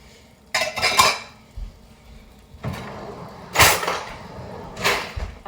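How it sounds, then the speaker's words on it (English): Chicken and spaghetti squash are tossed together in a pan, producing a few separate bursts of clattering utensil scraping and clinking against the cookware, with quiet pauses between them and no talking. "Next up, you are going to add your chicken. Give that a quick mix, and then add in your spaghetti squash."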